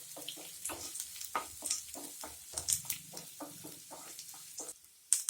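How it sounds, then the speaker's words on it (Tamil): Chopped onions sauté in a pan for Tamil-style coconut rice, sizzling steadily under repeated scraping and stirring strokes of a spoon, close and fairly loud, with a sharper clatter near the end. "இப்போது நம்ம வெட்டி வச்சிருக்கிற வெங்காயத்தை சேர்த்துடலாம். சேர்த்து நல்லா பொன்னிறமாகிற வரைக்கும் வதக்கிடலாம்."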